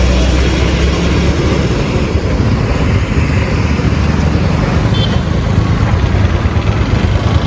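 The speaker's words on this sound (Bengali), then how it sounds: "লরি ছাড়া কিচ্ছু নেই, পুরো শুনশান রাস্তা" Lorries rumble past on a quiet highway at night, producing a loud, steady, continuous roar of road and engine noise with no pauses.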